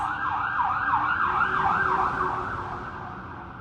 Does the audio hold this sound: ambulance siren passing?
yes